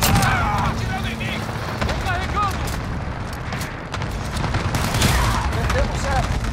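Rapid bursts of Call of Duty: Modern Warfare gunfire crackle continuously alongside explosions, while a voice talks excitedly in Portuguese over the action.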